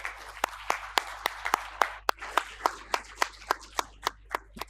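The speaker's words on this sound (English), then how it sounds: "for your big round of applause." An audience at an inaugural session with the Dalai Lama as chief guest gives a round of applause, dense clapping at first that thins into separate sharp, evenly spaced claps, moderately near and with no talk.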